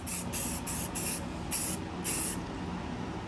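A spray can spraying paint onto a race car, six short hissing bursts in quick succession with brief gaps, close and clear over a low background.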